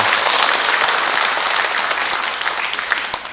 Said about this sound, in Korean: 자, 다시 한번 우리 환영의 박수를 보냅시다.